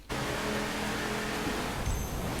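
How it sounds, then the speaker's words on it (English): A car in a drag trial in The Crew racing game accelerates hard with a loud, continuous engine roar and road noise, heard close and steady throughout with no talk. "Quickly do a drag trial."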